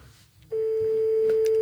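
Telephone ringback tone on an outgoing call: a steady, loud, continuous electronic tone that starts abruptly after a brief quiet moment and holds alone to the end.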